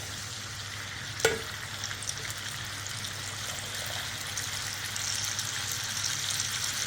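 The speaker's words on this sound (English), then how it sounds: "I'm gonna put my spaghetti directly into the pan to finish them cooked" Steady frying sizzle of spaghetti finishing in a pan for carbonara, with a brief clatter near the start and a soft crackling hiss continuing throughout, close and constant.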